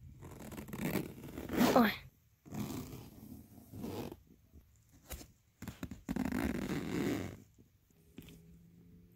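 A zipper on a bag being pulled closed in several short rasping strokes with pauses between, close by, plus a brief spoken exclamation.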